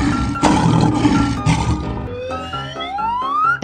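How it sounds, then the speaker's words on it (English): A loud, rumbling animal roar at close range, followed by rising, siren-like tones that climb in pitch toward the end. "Yes. Lion."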